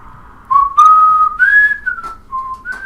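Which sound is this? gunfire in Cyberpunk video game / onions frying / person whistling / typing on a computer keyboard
person whistling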